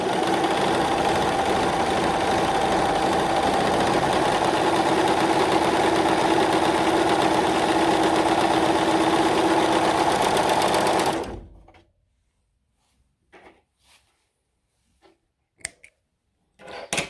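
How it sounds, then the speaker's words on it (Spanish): A Singer S0235 sewing machine stitches a scallop stitch, running with a steady, close, even mechanical whir for about eleven seconds before stopping abruptly, followed by near silence with a few faint clicks. "ahora sí, efectivamente está haciendo la costura"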